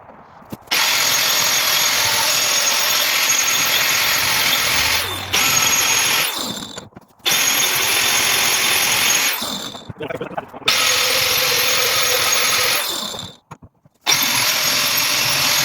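Power grinder working rattan for a medieval armored-combat practice sword, held close to a vise; a loud steady whine runs in long bursts, broken by brief pauses where the tool stops and restarts.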